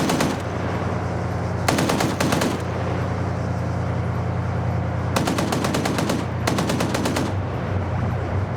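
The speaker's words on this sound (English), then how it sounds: "that's the RPG firing" Bursts of automatic gunfire in a military video game battle come as three or four loud, rapid, rattling volleys. A continuous engine-like drone runs underneath, and an RPG is fired somewhere in the mix.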